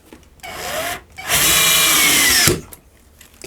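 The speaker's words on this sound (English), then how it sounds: "I've got my Black & Decker electronic screwdriver and one of my sheetrock screws." A Black & Decker electric screwdriver drives a sheetrock screw into wood, heard close up as a short whir and then a louder, steady buzzing run of about a second that stops abruptly.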